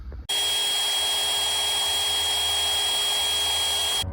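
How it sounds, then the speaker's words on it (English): A power drill bores a pilot hole through a pickup truck's steel frame rail while a plow mount is being installed, a loud, steady whine that holds for about four seconds and then stops. "this hole we're gonna have to drill through right there"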